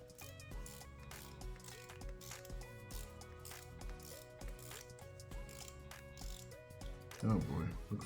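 A ratchet with a 10mm socket clicks in quick rapid runs on an engine bolt of a 2.5L GDi Kia Sorento during variable valve timing work, close and fairly quiet, ending in a brief clatter.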